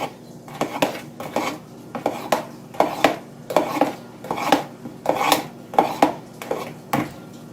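Cornmeal cake batter is stirred with a utensil in a bowl, cornmeal and flour being worked together, giving about a dozen rhythmic scraping knocks against the bowl at a steady pace, close and clear with no talking.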